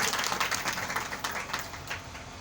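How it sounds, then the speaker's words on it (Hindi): Church congregation clapping for Jesus Christ, a fairly faint, diffuse patter of many hands that fades gradually toward the end, with no voices over it. "जोरदार तालियां यीशु मसीह के लिए बजाएं।"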